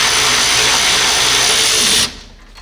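A power tool runs steadily at loud, close range while removing a seat bolt from a wrecked Scion tC, then cuts off abruptly near the end.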